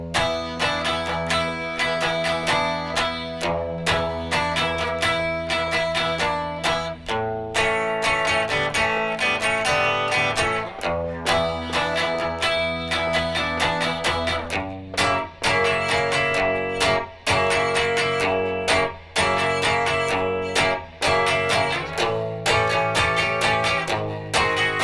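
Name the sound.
electric guitar playing the first verse of a song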